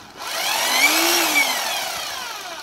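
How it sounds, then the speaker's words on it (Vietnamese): German two-function hammer drill, model 373, running unloaded: a steady high whine that spins up, holds and slowly winds down, loud and close, alone. "một cái khoan bót của Đức hai chức năng"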